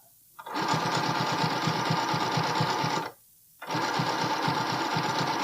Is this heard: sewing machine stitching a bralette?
yes